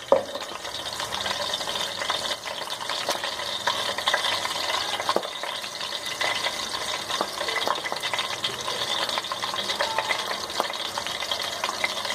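Green chillies fry in a pan for mash ki daal, giving a steady, fairly quiet sizzle with faint stirring scrapes and small clinks throughout.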